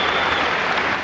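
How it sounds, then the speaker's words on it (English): Appreciative applause from the crowd at an indoor boxing arena in Birmingham during a super middleweight bout, a dense, steady wash of clapping that fills the hall, with no voices. "appreciative applause, I suspect, from the"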